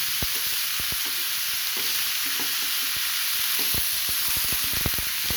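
Bottle gourd peels frying with potato and carrot in a pan give a steady, loud hiss and sizzle, broken by frequent crackles and the scrape of a spatula stirring through them.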